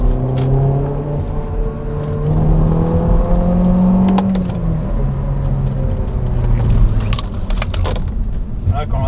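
A 2006 Peugeot 307 Féline three-door with the 2.0-litre 180 hp engine from the 206 RC, revving and pulling as it is driven hard, with rising and falling engine pitch under a man's speech.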